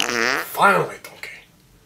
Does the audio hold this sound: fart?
yes